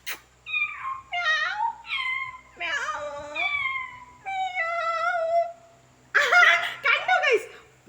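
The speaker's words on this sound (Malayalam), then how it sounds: "പൂച്ചയുടെ ശബ്ദം കേട്ട് അവൾ എണീക്കും" A cat meows repeatedly up close, a run of varied, wavering cries, some long and drawn out, with short pauses between.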